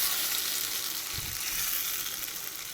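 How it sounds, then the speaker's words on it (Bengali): Spice paste frying in hot oil, a steady broad hiss of sizzling with one soft low thump partway through, close and even, with no voices. "তেলটা দেখো আমার গরম হয়ে গেছে, এরপরে এই যে বাটাগুলো আমি আস্তে করে ছেড়ে দেবো,"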